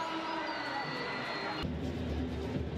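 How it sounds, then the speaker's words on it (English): A stadium crowd at a women's football qualifier between Panama and Barbados roars steadily after Panama's third goal, a dense, continuous cheer with a commentator talking over it. "Crowd loving it."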